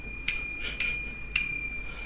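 A bicycle bell from a new Canyon Endurace CFR road bike unboxing rings three times in short bright dings spaced about half a second apart, moderately loud over a quiet room with no talking.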